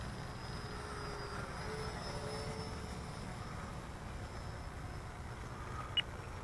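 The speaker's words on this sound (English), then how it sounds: "I try not to keep this at full throttle more than just a couple of seconds on that 5S" An electric RC airplane, a Rebel V2 on a 5S battery, with motor and propeller at full throttle: a steady, far-off droning whine holding even for the whole stretch, with one faint click near the end.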